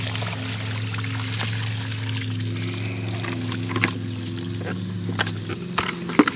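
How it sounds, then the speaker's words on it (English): Rinse water dumped from a bucket of soaking ropes, a continuous pouring splash and trickle outdoors over a low steady engine-like drone. "So you simply just dump the water out,"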